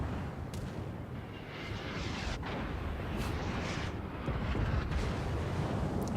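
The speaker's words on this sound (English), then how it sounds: "Incoming shells suck. Something's shooting at me." Incoming naval shell fire in the World of Warships video game produces a dense, rumbling wash of booms and explosions that swells and holds at a steady, loud level throughout.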